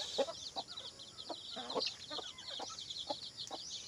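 Chickens and chicks cluck and peep in a clean coop, a series of short repeated calls with a faint high cheeping in the background, moderately close.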